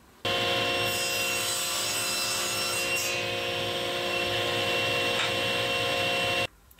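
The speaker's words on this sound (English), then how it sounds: "just using the miter fence, we're going to cut this off" Wood board being cut to length with a saw guided by a miter fence while making a gnocchi board; a steady, continuous sawing whine runs close and loud for about six seconds, starting and stopping abruptly, with no talk.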